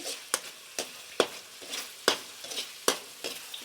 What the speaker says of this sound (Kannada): ಚೆನ್ನಾಗಿ ಫ್ರೈ ಮಾಡಿ ಎಲ್ಲ ಹಸಿ ವಾಸನೆ ಹೋಗೋ ತನಕ ಚೆನ್ನಾಗಿ ಫ್ರೈ ಮಾಡಿ